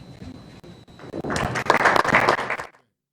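Applause from an audience at a Brazilian official ceremony honouring Minister Luís Roberto Barroso, a dense burst of clapping that swells after a quiet start, holds steady for over a second, then cuts off abruptly.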